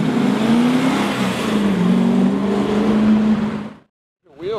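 A McLaren P1 supercar drives close by with a loud, steady engine drone and slight shifts in pitch, then cuts off abruptly into silence before the sound picks up again briefly.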